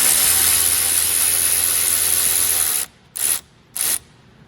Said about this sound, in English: We're going to use a little bit of power tools here instead of the by hand method